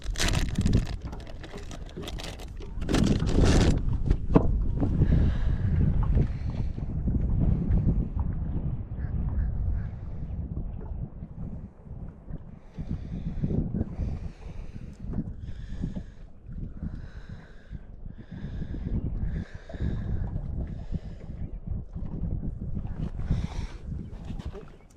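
Steady wind buffeting a fishing boat on open water while bass fishing with Carolina rigs, a continuous rushing roar with gusts, under intermittent talking between people aboard.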